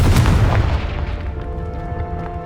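A Confringo explosive spell in Hogwarts Legacy goes off as a loud, close boom, with a heavy blast at the start that rolls into a long, rumbling decay.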